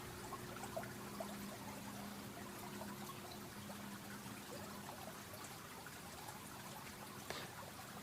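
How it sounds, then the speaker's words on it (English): Steady, continuous wash of ocean waves, with soft water hiss and trickle throughout and a faint low hum beneath, calm and even with no voices. "The beautiful sounds of the waves."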